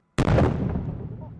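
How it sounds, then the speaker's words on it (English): A small controlled explosion of an improvised explosive device, set off by British troops in Afghanistan, lands as a single sudden loud blast after a moment of quiet, then rolls off in a rumbling decay over about a second. "just get into cover while there's a small controlled explosion"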